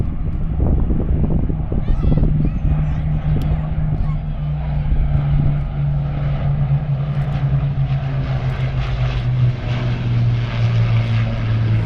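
Battle of Britain Memorial Flight vintage aircraft with Rolls-Royce engines passing at a Southport airshow, a loud continuous droning propeller-engine roar with a steady low tone, under an announcer's commentary.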